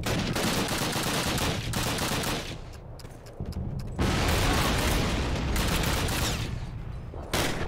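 Sustained World War II-era gunfire in Call of Duty (2003): dense, continuous bursts of rifle and machine-gun fire with a brief lull midway, loud and close, no voices.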